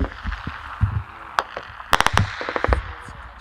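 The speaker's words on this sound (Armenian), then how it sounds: "թշնամին իհարկե շատ հեռվից կրկին կրակում է" Gunfire from far-off enemy positions at night on the Artsakh–Azerbaijan border: a scatter of sharp cracks, some in quick clusters of three or four, over a low background rumble with no talk.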